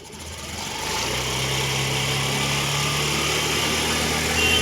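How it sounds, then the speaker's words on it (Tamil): A vehicle engine revs steadily right after starting, a loud rough continuous drone that builds in the first second and holds at high speed with a slight rise at the end. "வண்டி ரேஸ் பண்ணுங்க."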